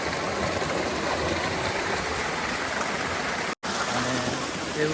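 Steady rushing water of a forest stream near a waterfall, a continuous broadband wash close by, with a brief dropout near the end.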